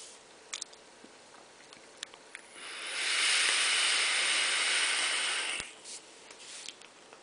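Dense e-cigarette vapour is exhaled from a dripper in one long, steady breathy hiss of about three seconds, with faint clicks and small handling sounds before and after.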